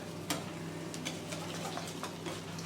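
Desiccated coconut being stirred into a whipped cream pudding mixture, a soft series of light taps and scraping strokes in an irregular rhythm, faint and close, without talking.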